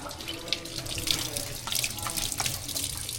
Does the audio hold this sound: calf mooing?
no